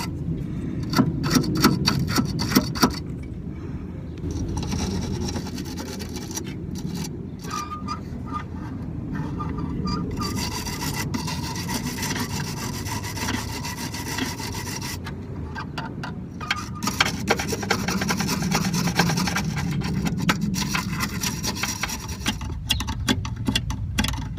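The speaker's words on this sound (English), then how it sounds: "Actually, I have a stainless steel brush. I'll try that first." Stainless steel wire brush scrubbing dirty metal switch contacts inside an electrical box, a steady close rasping rub with quick back-and-forth strokes running throughout, louder bursts at the start and near the end.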